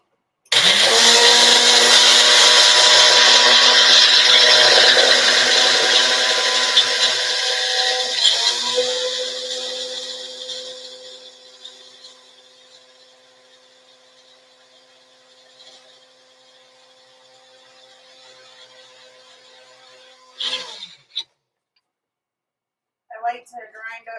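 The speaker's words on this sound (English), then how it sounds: "I like to grind up my chia seeds before I cook them." A grinder whirs loudly as it pulverizes chia seeds, running at full strength for several seconds and then winding down slowly to a faint hum, followed by brief clatter and a few spoken words.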